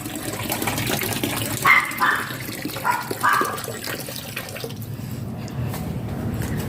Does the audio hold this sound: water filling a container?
yes